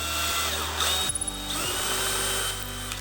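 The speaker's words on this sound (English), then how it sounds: "All I'm doing now is going to be pre-drilling because this is particle board" A handheld power drill pre-drills a shallow pilot hole in particle board, whirring loudly and steadily with a brief stutter as the bit bites and then runs on alone without talk.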